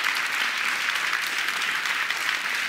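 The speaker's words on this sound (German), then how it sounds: "hier unter großem Applaus" An audience at a live book show bursts into loud, dense applause, a steady roar of clapping throughout with no speech.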